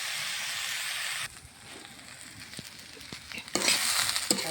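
Vegetables for a dry curry are stirred and fried in a pan: a bright hiss that drops to a quieter sizzle with faint scraping taps, then swells louder again toward the end.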